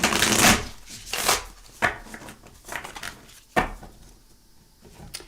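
Tarot cards are shuffled in quick bursts of riffling and slapping, loud and close, with short pauses between each burst.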